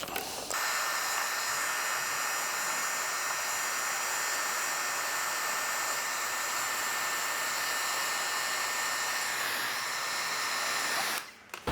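A heat gun blows hot air onto tint film on a Toyota 4Runner taillight, a steady loud whooshing roar held for about eleven seconds before it cuts off.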